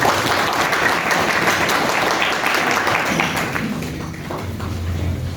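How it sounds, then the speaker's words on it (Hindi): Dense, sustained applause from a seminar audience, loud and continuous for several seconds before thinning slightly toward the end, with a low hum underneath. "जोरदार तालियां बजा दीजिए सब"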